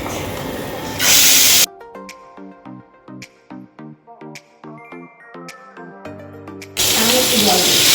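A ground spice paste of ginger, onion, garlic, tomato and sesame hits hot oil with a loud, close, hissing sizzle in short bursts at the start and end, with music playing in between.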